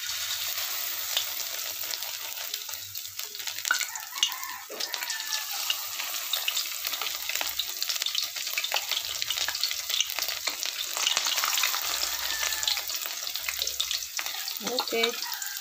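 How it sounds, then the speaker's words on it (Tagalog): Tortang bolinao, anchovy fritters, fry in hot oil with a dense, steady crackling sizzle and scattered pops, close up and continuous, with no talking. "Lutuin na natin itong ating tortang"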